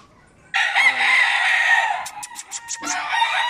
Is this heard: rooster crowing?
yes